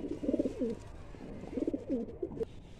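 Pigeons in a loft give two rolling, throaty coo phrases close by, separated by a brief pause, with faint background rustle.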